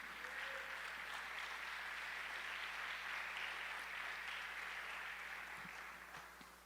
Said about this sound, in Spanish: ¿Cuántos le dan un fuerte aplauso a nuestro Dios,